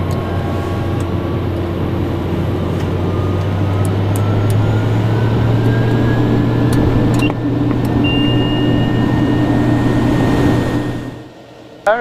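TBM850 turboprop engine running just after start, a loud, steady roar with a rising whine, heard close from inside the cockpit before it drops away near the end.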